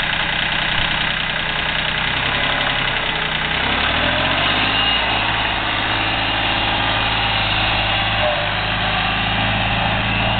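A Yanmar 226 D four-wheel-drive compact tractor on turf tires idles steadily and loudly up close, its diesel engine holding a continuous, even rumble for the whole stretch.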